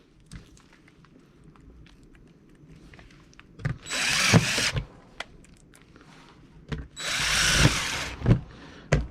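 A power drill drives screws into an air handler during installation of an air scrubber. Two loud, close whirring bursts rise over quieter scattered clicks and handling noise.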